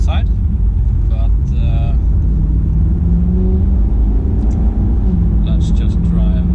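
Maserati Gran Turismo cruising on the road, a steady low engine and road rumble heard from inside the cabin, with someone talking over it throughout.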